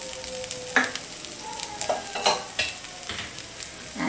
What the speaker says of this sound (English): And fry it till the raw smell of the garlic goes away.